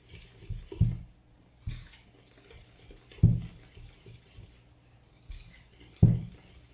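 Cake batter with whole wheat and buckwheat flour is being mixed in a bowl, a utensil knocking and scraping against the sides in sparse, irregular thumps with soft clinks between, quiet and close, with no talking.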